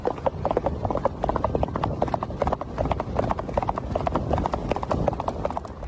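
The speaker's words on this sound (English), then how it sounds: "spotted a horse running along the shore" Horse galloping along a sandy shore, hoofbeats pounding in a quick, steady rhythm close by over a rough rumbling background with no talk.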